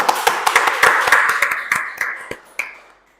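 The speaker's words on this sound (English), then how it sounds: "Guys, give applause." Applause at the close of a storytelling finalist's performance in an English competition final: a small group claps in uneven, fairly close bursts that thin out and fade to silence within about three seconds.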